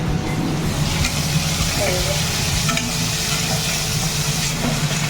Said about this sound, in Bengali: মশলাটা এখনই দেখ তেল ছেড়ে দিয়েছি, কিন্তু এটাকে আরো অনেকক্ষণ ধরে কষাবো অল্প অল্প জল দিয়ে দিয়ে